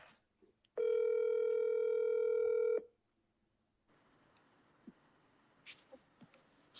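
A single steady telephone tone sounds loudly for about two seconds during an outgoing call to a radio show guest, followed by silence and then faint room noise with a few small clicks.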